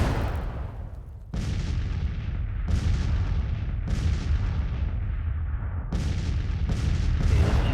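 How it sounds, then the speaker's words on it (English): Cannon bombardment in a Civil War strategy game: a series of loud, booming artillery blasts with long rumbling tails, coming at irregular intervals one to two seconds apart, with no talking. "Keep bombarding these guys."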